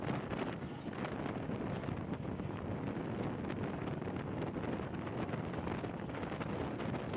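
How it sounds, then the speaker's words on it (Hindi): Hazara Express passenger train in Pakistan running at speed, a loud, steady rushing roar of wind and rumbling wheels that fills the whole stretch without pause and with no voices. "कितनी तेज़ चल रही है ट्रेन।"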